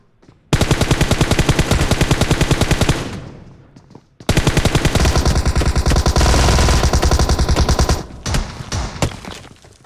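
An M416 assault rifle fires in PUBG Mobile, loud and close, in long rapid automatic bursts. A brief pause separates the bursts, and shorter broken volleys follow at the end.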